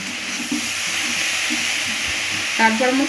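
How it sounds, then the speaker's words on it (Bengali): Oats lightly frying in a pan, a steady low sizzle with faint stirring, and a voice briefly rising over it near the end. "এটা দিয়ে আবার একটু ভেজে নেবো হালকা করে"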